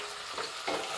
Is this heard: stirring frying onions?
yes